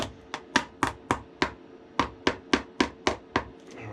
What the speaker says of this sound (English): I'll grab my hammer and all these little nubs here with the nails sticking up